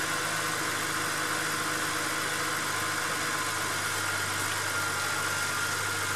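A BMW E90 car engine idles just after starting, a quiet, steady low hum with a faint mechanical rattle, running evenly and alone.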